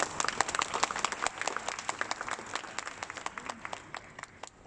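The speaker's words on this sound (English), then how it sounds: "How about a nice round of applause?" An audience applauds at the launch of a Louis XIII pop-up boutique in Changi Airport, a steady patter of many hands clapping for the whole stretch, moderately loud and fairly close, without any talk.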